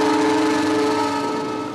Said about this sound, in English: All right, one whistle.